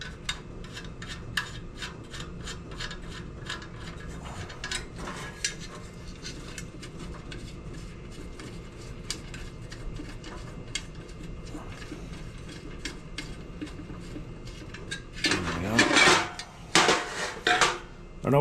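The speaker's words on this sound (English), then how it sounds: "Let's take the battery tray off." A car battery tray is unbolted and pulled free during a stripdown, with a long run of small metallic scrapes, taps and ratcheting clicks, then a louder burst of clanking and rattling metal near the end, close by.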